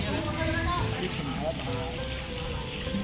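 Rain falls steadily at a market, a continuous broadband hiss and patter that stays level throughout, with voices talking faintly underneath.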